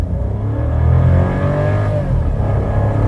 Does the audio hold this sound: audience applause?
no